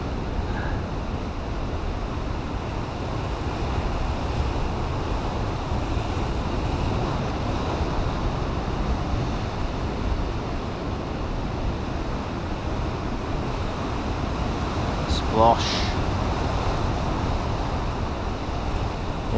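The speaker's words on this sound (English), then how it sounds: "See this big wave coming first, look at that." Big sea waves rolling in on the Yorkshire coast, a steady broadband surf roar with wind buffeting the microphone throughout, rising slightly near the end, no voices.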